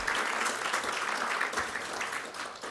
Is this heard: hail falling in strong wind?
no